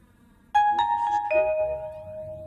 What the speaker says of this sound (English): I can select xylophone.